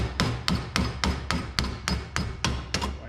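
Rapid, evenly spaced hammer taps, about a dozen sharp metallic strikes in a steady rhythm, driving an alternator rotor out of its front housing, close and with no talking.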